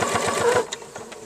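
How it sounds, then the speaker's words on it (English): A sewing machine stitches thin shoulder ties for a small sundress made from a pillowcase, a loud close burst of rapid rhythmic needle thumps that stops partway, followed by a few soft clicks. "So that will all be pinned and then stitched. Just stitching the ties,"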